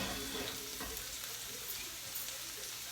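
Vegan meat pieces sizzle steadily in a hot pan, a continuous close frying hiss with faint stirring and no talk.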